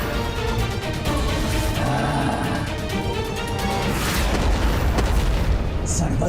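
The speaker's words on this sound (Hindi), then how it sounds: "विस्फोट मुझे अपार आनंद दे रहे हैं।" Deep rumbling booms and blasts roll continuously, loud and chaotic, with a voice talking over the explosions.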